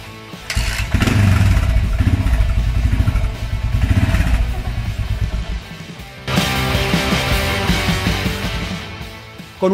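A Yamaha XT500 single-cylinder motorcycle is kicked and fires, its engine chugging and revving loudly up close, dropping off briefly before catching again.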